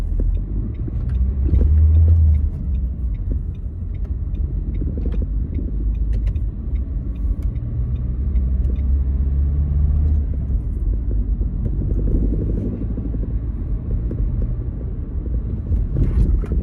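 A car drives on a road toward a motorway during a driving lesson, its engine and tyre rumble steady and close, with low booming wind and road noise throughout and no talking.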